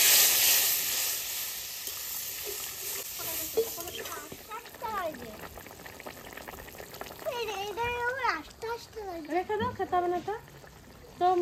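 Spices and Kashmiri chili powder fry in a pan with a bright, hissing sizzle that is strongest at first, then continues softly under a nearby voice talking.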